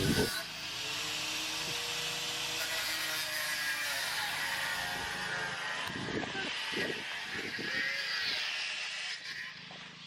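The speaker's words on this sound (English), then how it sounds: "He's just cutting the clamps because they're like super old" Old hose clamps are cut off during the dismantling of a Ford Mk2 Zephyr with its 2.5-litre engine. A loud, steady, hissing cutting drone runs almost unbroken for about ten seconds, with a few low knocks and thumps near the end.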